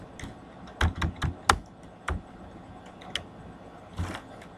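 Sharp keyboard clacks come in quick uneven bursts, a handful of loud key taps and then a few scattered strokes, close up with no talking.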